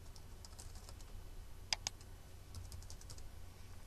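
Quiet, light keystrokes on a computer keyboard as text is entered into an input field, scattered soft clicks with a couple of sharper taps midway, heard alone against a faint background hum.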